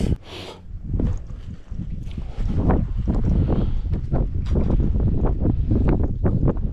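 Strong wind blowing outdoors near a burn pit, roaring and buffeting the microphone in steady gusts that swell louder partway through.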